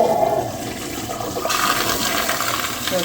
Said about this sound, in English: So then I'll flush that one.